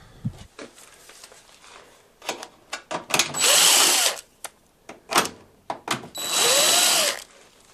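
Cordless power drill working screws on a Whirlpool ventless dryer, with short bursts of whirring, then two longer sustained high-speed runs between clicks and handling noises, close and fairly loud.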